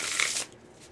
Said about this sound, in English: So while I'm shuffling these cards, go ahead and think of a question